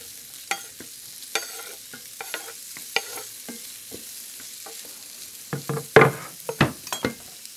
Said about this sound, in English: And we'll pop in the beef